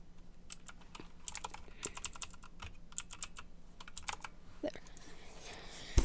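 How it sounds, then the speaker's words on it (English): Keys clack in an irregular run as HTML tags are typed on a computer keyboard, with short bursts and pauses between strokes, close and fairly quiet. "Type in HTML with the opening bracket, and then type in body."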